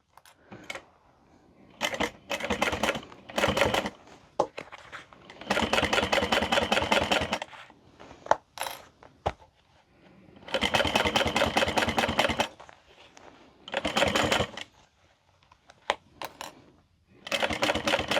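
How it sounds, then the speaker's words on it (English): A sewing machine stitches a handbag panel in several loud, close bursts of rapid mechanical chatter, each lasting a few seconds and separated by quiet pauses. "make sure you do a good back stitch, but do not go past the mark"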